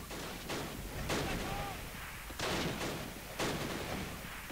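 Mortar and artillery bursts in the WWII strategy game Close Combat: The Longest Day, several dull booming impacts spaced a second or so apart over a noisy battlefield bed, with someone talking quietly underneath.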